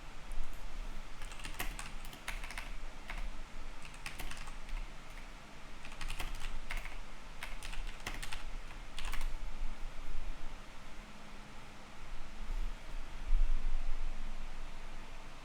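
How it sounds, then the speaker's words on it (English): Steady typing on a computer keyboard, close and continuous, with quick clicky keystrokes in irregular bursts and short pauses over faint room hiss, no talk. "Let me type."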